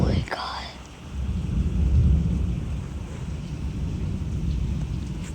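Heavy rain pours steadily while a deep thunder rumble swells and rolls through the middle. A brief voice is heard at the start.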